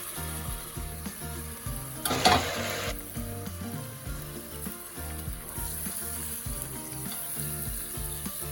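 Tomato pieces hit a hot pan with capsicum for a South Indian mixed vegetable khichdi, setting off a brief louder burst of sizzling that settles into a steady, fairly faint frying sizzle.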